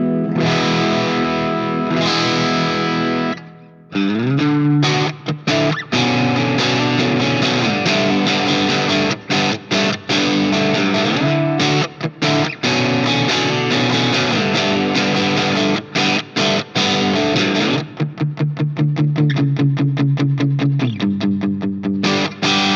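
A 2026 Ibanez RG653DX electric guitar played with distorted indie rock tones and the volume rolled way down: sustained chords and rhythmic chugging runs with brief stops, heard up front with no talking.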